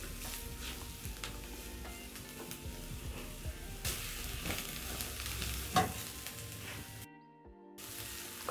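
Steady sizzling of mushrooms frying with garlic and onion in a hot pan, with occasional stirring scrapes and a brief drop in sound near the end.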